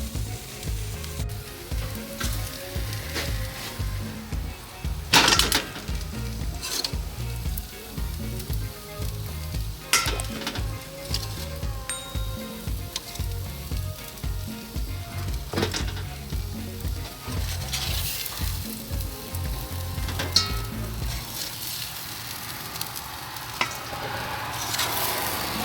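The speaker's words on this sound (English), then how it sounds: "So now I'm just gonna take off my steak from the barbecue." Jerk steak sizzling on a barbecue, a continuous loud crackling sizzle with repeated sharp clanks and scrapes from a utensil as the meat is lifted off, the sizzle dropping away near the end, no talking.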